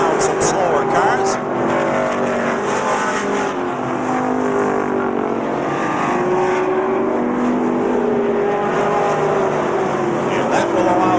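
Race cars circling Beech Ridge Motor Speedway at a 1992 weekly race, engines droning and revving continuously with cars passing, under a race commentator's steady voice.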